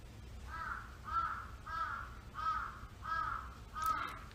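A crow caws six times at an even, steady pace, fairly distant and quiet against low background noise.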